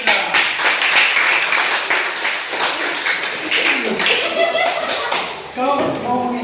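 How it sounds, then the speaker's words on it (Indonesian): A classroom group bursts into lively clapping that keeps going for several seconds, close and dense, with voices talking over the applause near the end. "Tepuk tangan."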